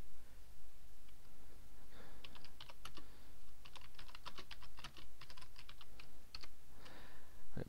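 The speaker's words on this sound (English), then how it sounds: "Let's just type it in here." Fingers type on a computer keyboard at a desk, a close, fairly soft run of quick key clicks in irregular bursts over a low background hum, with brief pauses and no talking.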